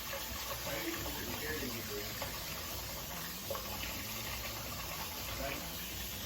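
Water tipped off rinsed rice from a pot's edge, a soft continuous pouring and splashing rush, faint and steady for the whole stretch.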